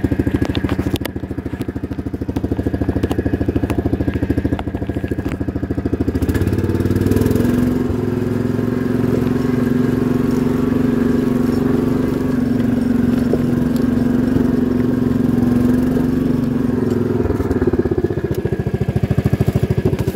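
A Green Machine five-wheeler ride-on chugs along with a steady mid-pitched hum and a faint crackle, holding a constant note for most of the ride.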